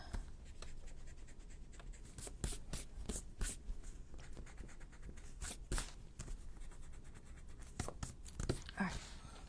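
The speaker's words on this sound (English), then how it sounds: "erase all those lines" A pencil eraser rubs over lines and dots on junk journal paper in quick, close back-and-forth scrubbing strokes that come in uneven bursts.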